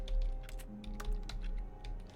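Rapid clicking of keyboard keys stands in for mouse clicks in The Stanley Parable video game, a brisk run of distinct taps over a low steady office hum, close and clear with no talking.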